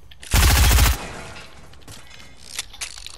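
A minigun fires in a video game, one loud, rapid, buzzing burst lasting just over half a second, followed by quiet background and a couple of faint clicks.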